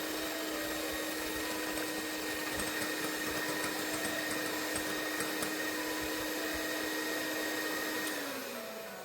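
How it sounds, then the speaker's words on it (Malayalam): Three eggs being beaten for a carrot, dates and raisin cake batter, an electric mixer whirring in a steady, loud, unbroken drone that winds down at the end, with no talking. "ഇനി 3 മുട്ടയാണ് എടുത്തിരിക്കുന്നത്. അതൊന്ന് നല്ലതുപോലെ നമുക്ക് ബീറ്റ് ചെയ്തെടുക്കാം."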